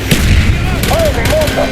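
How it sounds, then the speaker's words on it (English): Mortar rounds fire in the Call of Duty: Black Ops game, a loud, heavy booming barrage with shouted voices mixed in. "Firing mortar!"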